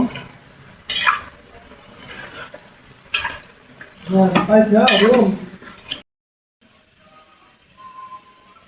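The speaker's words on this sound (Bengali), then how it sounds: "এখন একটু আমি ডিম সহ একটু নাড়াচাড়া দেব" Quail eggs are stirred in a frying pan with a utensil. Scraping and clinking strokes sit over a soft sizzle, grow busier midway, then stop abruptly and leave near silence.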